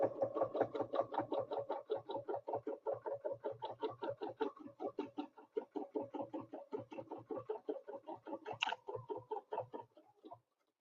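Domestic sewing machine stitching a quilt guided by a snowflake ruler template, running in a steady rapid chatter of needle strokes for the whole stretch, with brief pauses and shifts in pace, close and alone without talk.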